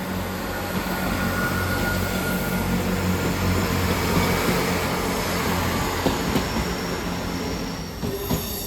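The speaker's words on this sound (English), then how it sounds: "Next service depart is Northern Service 158816 off to Carlisle." Northern class 158 unit 158816 pulls out of Newcastle station bound for Carlisle, its diesel engine droning steadily beneath rolling wheels and a faint high squeal, loud and close throughout with no talking.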